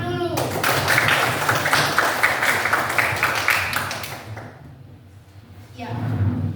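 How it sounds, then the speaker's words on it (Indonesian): A classroom of students claps together in sustained, dense applause for several seconds, fading out before a voice begins speaking at the end. "Kita kasih tepuk tangan dulu."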